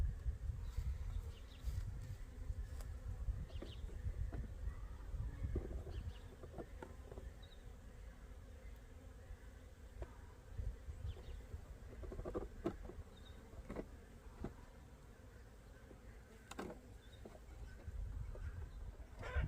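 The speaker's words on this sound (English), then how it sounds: "So we have some of the bees here" Honey bees at a struggling hive during an inspection after mouse damage, a low steady buzzing close by with occasional clicks and handling knocks, no talking.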